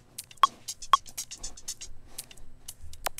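A melodic house percussion loop runs in a busy pattern of crisp, dense hits and ticks, with a couple of brighter pitched clicks standing out early on, all close and fairly quiet.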